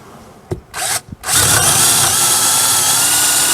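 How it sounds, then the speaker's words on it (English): Power drill with a long bit boring through the wooden side wall of a shed: a couple of short bursts and a pause, then a loud, continuous close-up grinding whir as the bit runs through. "This is a long bit that'll go all the way through the side of the building."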